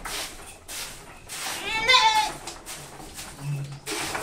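Goats bleat in a goat shed, one clear loud call rising in the middle among quieter animal sounds and some human speech.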